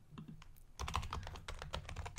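Rapid clicking keystrokes on a computer keyboard while writing Java code, close and steady, with short pauses between bursts of typing.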